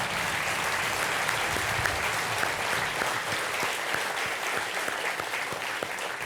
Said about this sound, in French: On peut applaudir Sacha Laurier, Diane Derseville, Jana Haussmann et Lisa Martin